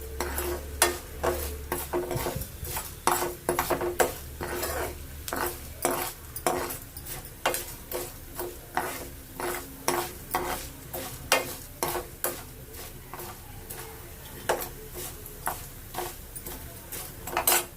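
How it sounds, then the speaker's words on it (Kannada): Coriander seeds sizzle softly as a utensil scrapes and stirs them in a pan, with rhythmic metallic clinks and scrapes repeating steadily throughout. No speech. "ಧನಿಯಾ ಚೆನ್ನಾಗಿ ಫ್ರೈ ಆಗಬೇಕು."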